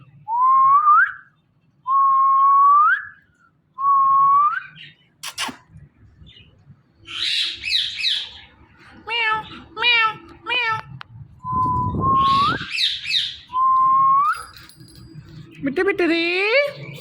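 A parrot whistles and calls to attract a female, giving repeated clear rising whistles in short bursts, then trills and warbling chatter, loud and close, with a few mechanical clicks in between.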